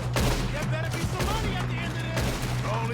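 Gunfire in a Red Dead Redemption 2 shootout, rapid overlapping shots cracking over a continuous low hum, with brief voices mixed in.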